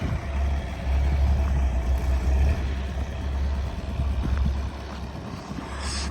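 An MTZ 82 tractor engine drones loud and steady in winter ploughing conditions outdoors, a low rumbling throb that eases slightly toward the end, with wind buffeting the microphone.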